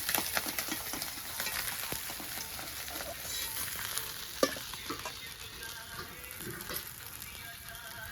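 Pieces of dhela fish lightly frying in oil, a quiet, steady crackling sizzle with occasional soft clinks of a utensil and one sharper knock midway, faint and unaccompanied by speech.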